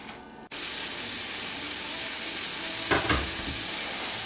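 Seasoned fish hits a hot pan with a sudden loud sizzle, then keeps up a steady, close frying hiss with a brief stir or shuffle partway through.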